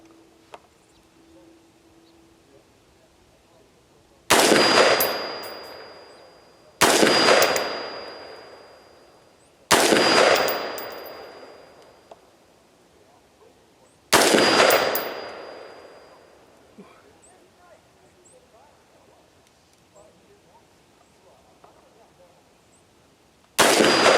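Brownell's Retro AR-15 prototype rifle firing outdoors, four sharp single shots spaced a few seconds apart, each loud and close with a long ringing decay, no talking.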